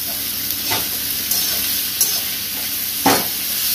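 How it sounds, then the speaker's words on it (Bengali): Onions sizzling in hot oil in a pan with a pinch of salt, a steady close hiss broken by a few louder stirring scrapes and spatters. "পেঁয়াজটা একটু ফ্রাই করতে হবে।"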